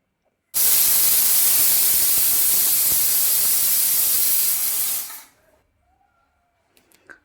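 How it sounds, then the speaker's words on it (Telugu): A pressure cooker whistle releases a loud, steady rush of hissing steam for about four and a half seconds, then cuts off abruptly, leaving near silence with a few faint clicks. "ఒక కుక్కర్ గిన్నెలో వేసుకొని మంచిగా విజిల్ పెట్టుకోవాలి"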